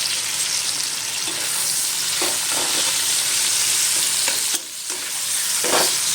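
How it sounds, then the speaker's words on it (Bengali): Loud, steady sizzling of potatoes, onion and garlic frying in hot oil, with occasional scrapes and stirs of a spatula in the pan. "ভাজা হয়ে গেছে, আলু পেঁয়াজ আর রসুন ভেজে নিয়েছি।"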